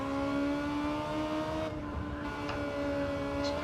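Race cars lap the Grand Valley circuit in a round of the P1RCs Civics 'Unleashed' series, engines droning steadily at a distance with a continuous tonal whine that dips briefly midway and then swells back as the field passes.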